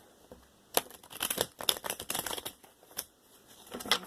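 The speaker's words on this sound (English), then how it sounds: "got one more shuffle in this" A deck of tarot cards is shuffled by hand, giving quick papery riffles, snaps and soft crinkles in irregular bursts, close and fairly quiet with no voices.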